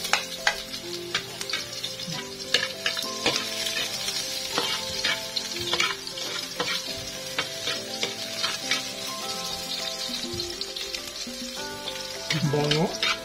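Onions sizzling and frying in a pan while being stirred for ginataang puso ng saging, a dense continuous crackle with clinks and scrapes of the utensil, close and steady throughout.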